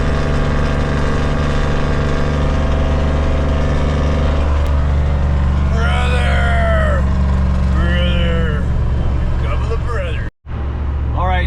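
A 1990 Ford 7.3 IDI diesel truck engine-brakes downhill with a loud, steady rumble. Its droning tones shift in pitch, and a voice talks over the middle stretch.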